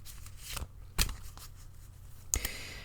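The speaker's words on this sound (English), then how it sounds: "I shuffle until Spirit asks me to stop." Tarot cards shuffled by hand, with several crisp riffling bursts and soft slides separated by short pauses, close and fairly quiet, no talk.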